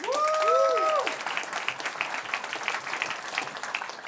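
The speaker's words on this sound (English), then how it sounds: "Give him a round of applause." Loud applause from a large audience, steady clapping that swells briefly and carries on, with a short musical swoosh at the start.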